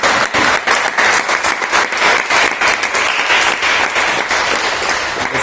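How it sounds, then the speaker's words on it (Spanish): A live convention audience claps steadily, a dense, loud wash of applause that holds evenly throughout without a voice over it. "Un fuerte aplauso, por favor."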